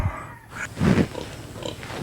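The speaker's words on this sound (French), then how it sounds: "Salut cochon, oh mon petit pote." A pig on a farm in the Philippines grunts a few times at close range, low snuffling oinks in short bursts with no talk over them.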